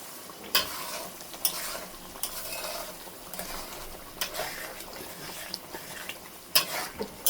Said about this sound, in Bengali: এখন এটা আমি আবারও কষিয়ে নিব সুন্দর করে